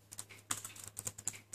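Quick keystrokes on a Chromebook keyboard while a terminal command is entered, a soft, close run of about a dozen light clicks in irregular rhythm over a faint steady hum.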